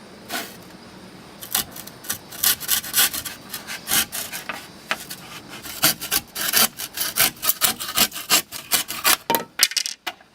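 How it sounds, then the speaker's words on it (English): A hand saw cuts through a wooden board at a measured mark, with rhythmic rasping strokes that start sparse and grow faster and louder toward the end, heard close up with no talk. "I'm just going to saw that right at that area."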